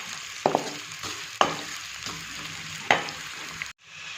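Onions sauté in hot cooking oil in a kadhai with a continuous sizzle, punctuated by several sharp spatula scrapes and stirs before the sound cuts off abruptly.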